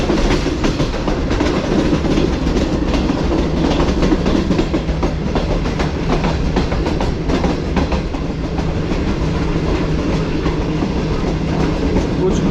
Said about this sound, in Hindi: तो दोस्तों तकरीबन 2 बजे हमारी ट्रेन रिसीव करने लगी है कोट लखपत रेलवे स्टेशन को